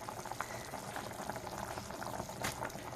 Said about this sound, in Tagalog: Pakuluin lang ulit natin. Antayin natin makulo yung maluto yung gulay niya.